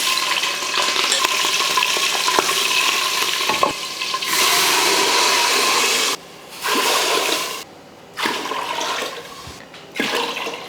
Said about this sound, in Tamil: நான் வந்து பொங்கல் குக்கரில் தான் தாளிக்கிறேன்